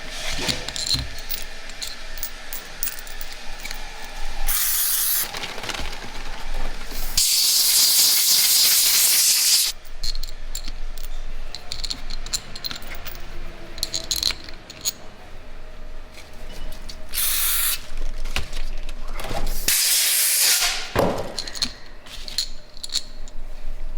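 Motorcycle engine bolts from a 2020 Road Glide Special big bore build are sprayed clean, with several loud, hissing bursts of spray separated by quieter gaps and faint handling noises.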